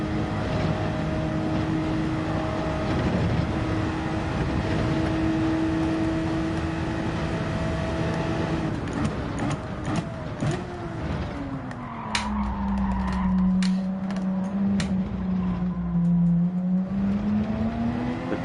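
Race cars in the driving game Gran Turismo 7, including what appears to be a Subaru BRZ, roar with sustained engine drone, then shift pitch up and down as they rev and accelerate, with sharp bursts over the continuous motor noise.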